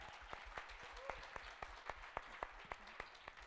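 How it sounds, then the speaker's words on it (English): At a conference session, an audience welcomes a guest to the stage with applause: soft, distant clapping with distinct, evenly spaced sharp claps standing out over a quiet wash of hands. "if we can give him a round of applause"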